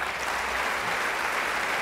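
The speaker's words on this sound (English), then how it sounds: "let's give a big round of applause" Audience at a conference plenary gives sustained applause, a dense even wash of clapping hands at steady volume throughout.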